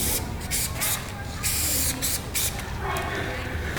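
Spray paint can hissing in bursts, close and loud, several short sprays separated by brief pauses over a few seconds.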